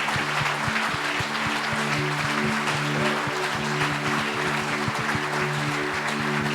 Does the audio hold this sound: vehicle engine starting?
no